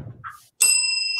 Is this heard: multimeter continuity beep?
no